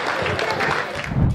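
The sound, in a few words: audience applause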